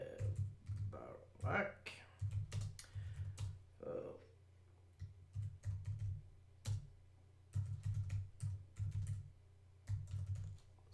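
Typing on a computer keyboard, bursts of quick close key clicks in short runs with brief pauses between them, steady and moderately loud, while someone talks intermittently over the tapping.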